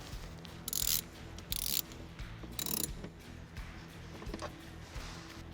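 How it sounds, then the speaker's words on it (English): An 8mm bolt on a hose clamp is tightened with a ratchet during a mass airflow sensor install on a Chevy Silverado, giving three short, close bursts of rapid clicking followed by faint mechanical handling. "Tighten the 8mm bolt on the hose clamp."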